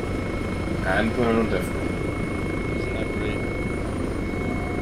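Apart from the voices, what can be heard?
Hellcat helicopter flying in Arma 3 video game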